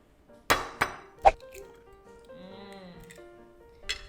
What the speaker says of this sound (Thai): จะตอกไข่ เหมือนเราทำไข่เจียวปกตินี่